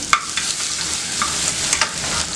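Ginger garlic paste sizzles and crackles in hot oil in a pan, with a steady frying hiss broken by a few sharp stirring scrapes, close and loud, with no voices.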